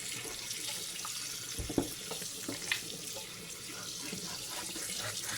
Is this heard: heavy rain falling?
no